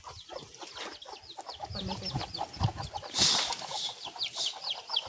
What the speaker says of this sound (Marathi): कोणाच्या कोंबड्या आहेत?